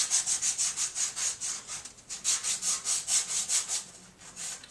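A puzzle cube is sanded by hand with heavily worn 1000 grit sandpaper, giving rapid, rhythmic back-and-forth rasping strokes, close and steady with a short pause midway.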